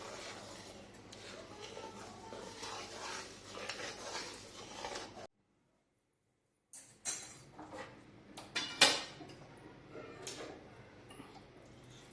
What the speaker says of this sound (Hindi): अभी उसमें हम मिक्स कर देते हैं जो आटा वो सब सेका है ना उसमें।